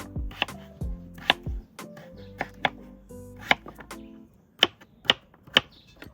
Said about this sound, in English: and then just chop them up